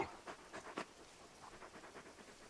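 Torgal, a large dog in Final Fantasy 16, pants in soft, rhythmic breaths that are close and quiet, with a few stronger huffs at first and then a steady, fainter pant.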